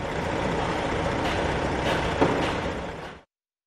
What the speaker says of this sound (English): Cement mixer truck.